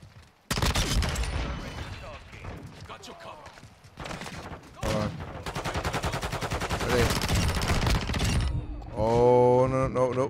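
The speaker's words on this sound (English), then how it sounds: "Oh, he's sniping." Gunfire in Call of Duty MW2 multiplayer, with loud bursts of rapid shots and single sharp cracks in dense sequences, mixed with game effects and a brief tonal sound at the end.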